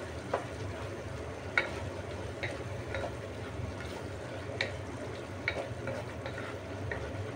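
Shrimp sautéing in a pan for pancit Malabon, a steady close sizzle with scattered clicks and scrapes of a utensil stirring at irregular intervals, no talking.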